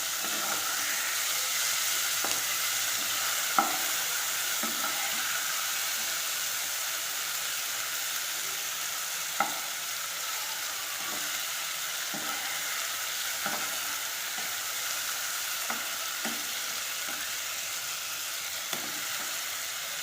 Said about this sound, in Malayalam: ചെമ്മീൻ നമുക്ക് മറിച്ചിട്ട് കൊടുക്കണം